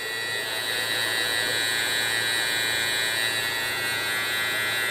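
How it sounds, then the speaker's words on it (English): Electric hair clippers buzz continuously at the back of the neck during a low taper haircut, a steady close hum with no pauses. "So just let the clipper do all the work."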